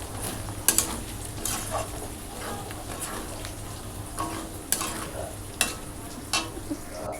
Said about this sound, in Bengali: চিকেনের মধ্যে কস্তুরি মেথিগুলো দিয়ে একটু কষাবো